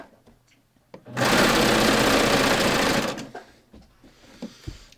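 A Baby Lock serger runs a cover hem in one steady, loud burst of about two seconds of fast mechanical whirring, with quieter handling noises before and after.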